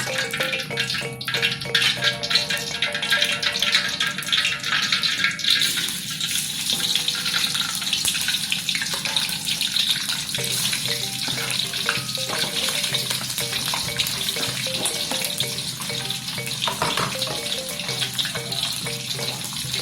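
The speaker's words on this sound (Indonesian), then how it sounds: "Setelah itu kita masukkan dendeng yang sudah kita tokok tadi ke dalam minyak panas." Pounded dendeng beef frying in hot oil, a loud, continuous crackling sizzle with bubbling and occasional stirring, close up and steady throughout without any talking.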